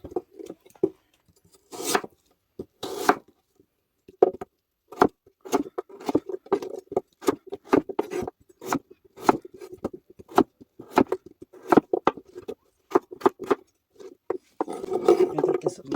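Knife slicing small palm-sized radishes on a cutting board for white kimchi, a run of sharp, regular chopping taps close by, steady in rhythm with brief pauses and no talk.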